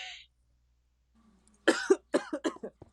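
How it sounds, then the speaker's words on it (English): A quick burst of several harsh coughs close to the listener, clustered together after a brief faint hiss and a moment of silence. "Are you sure you're not gonna start coughing again?"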